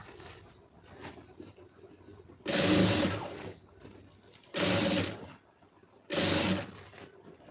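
A sewing machine stitching piping along fabric runs in three short bursts of steady whirring and rattling, each about a second long, separated by quiet pauses with faint handling noises.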